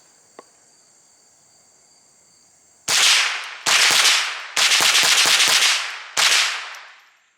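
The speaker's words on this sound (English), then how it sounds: "let's do some rapid fire, just to see, you know, the reliability." Rossi RS22 .22LR semi-automatic rifle fired rapidly outdoors: a quiet start with a faint click, then a string of loud, sharp gunshots in quick bursts, each trailing a short ringing decay.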